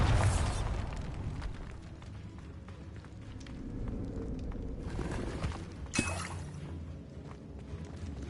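Bombarda blasting spell from Hogwarts Legacy exploding in a loud burst at the start, followed by rumbling debris and a second sharp blast near the end, over a steady game ambience.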